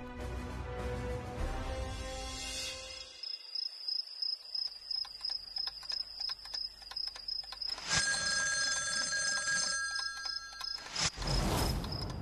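A telephone rings unanswered in a Bantul The Great Bengali cartoon, with a steady series of bright electronic ring pulses over a chirping, cricket-like night background, with a louder burst near the end.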